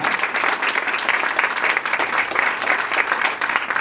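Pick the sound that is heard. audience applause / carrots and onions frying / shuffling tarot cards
audience applause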